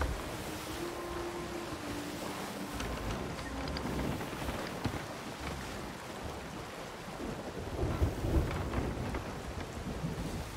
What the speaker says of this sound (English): storm is coming